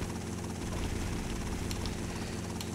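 A helicopter engine drones steadily in the game GTA: Vice City Stories, a loud, continuous rotor hum with a low pulsing throb and no break.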